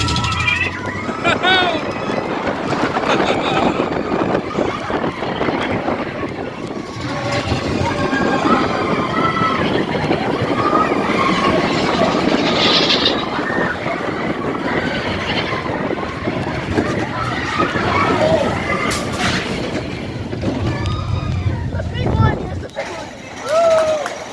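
Continuous rumbling ride noise from Big Thunder Mountain Railroad roller coaster at a Disney park, with clattering and rushing movement, a crowd's chatter mixed in throughout, loud and steady.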